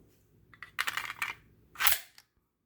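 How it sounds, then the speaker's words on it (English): Metal clicks and a firm clack as a magazine is seated into a Desert Eagle .50 AE pistol, a few short close handling noises ending in one sharper snap. "even the sound of the magazine going in sounds cool"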